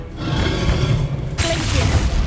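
Spell effects from the video game Hogwarts Legacy as Levioso is cast: a steady, loud rumble of whooshing magic and thuds, with a sharper, brighter burst about halfway through.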